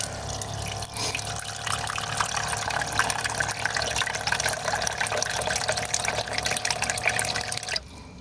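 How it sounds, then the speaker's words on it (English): Water pours steadily into a cup at a cooking spot inside a van. The stream rushes continuously for about seven seconds, then cuts off near the end. "I think I'm going to put the water in first"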